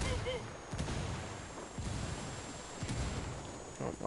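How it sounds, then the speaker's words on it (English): Grenade blast and gunfire in a video game shooter, heard as muffled booms and scattered shots under a continuous noisy background, fairly faint, with some voice activity mixed in. "Grenade, move, move, move."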